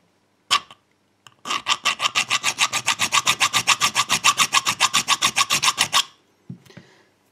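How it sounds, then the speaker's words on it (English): A hand file rasps across a STELAR disc detainer lock in about thirty steady, evenly spaced strokes, close and loud, with a couple of faint knocks before and after. "therefore I use my file and see how deep the grooves are that this file leaves"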